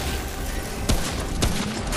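Gunfire in the video game Remnant: From the Ashes: two sharp shots crack loudly over dense, continuous game noise and rumble.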